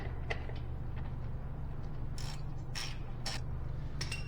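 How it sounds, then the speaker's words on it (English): Bolts on trailer lights are tightened with a ratchet, giving a few faint, close clicks and creaks scattered over a steady low hum, with no talking. "Now I get to tighten the bolts."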